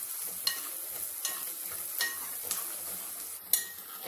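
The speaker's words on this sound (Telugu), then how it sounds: "చూడండి, ఉల్లిపాయలు చక్కగా వేగుతున్నాయి కదా" Onions fry in a pan for a yellow cucumber and tomato curry with a soft continuous sizzle. Light stirring scrapes come at a regular pace about every half second to second.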